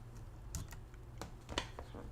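Quiet clicking of keys on a computer keyboard, a few scattered keystrokes with short pauses between them, faint and close.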